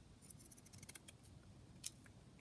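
Scissors trim paper for a craft journal with a quick run of small crisp snips up close. A pause follows, then one sharper snip, all quiet and with no talk.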